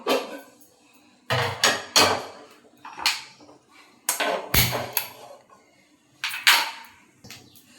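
A metal kadai, a wok-like pan, set down in a home kitchen while making garlic pickle: a series of sharp clanks and knocks of metal on a hard surface, spaced irregularly, with quiet pauses between.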